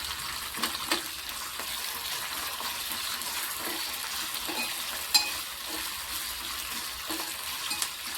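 A mixture with tamarind sizzling in a pan, a soft steady frying hiss with occasional stirring clinks and scrapes.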